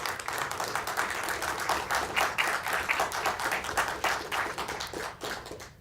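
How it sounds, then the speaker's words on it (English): At a NASA briefing on the MAVEN mission to Mars, a modest audience claps steadily for the team. The applause is fairly quiet, with individual claps distinct, and fades toward the end. "Please join me in giving this MAVEN team a round of applause for this outstanding work."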